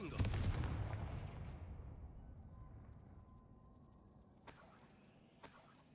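A Confringo blasting spell in Hogwarts Legacy bursts with a loud, close explosive boom at the start. A rumbling decay follows, then two sharper, fainter cracks sound near the end.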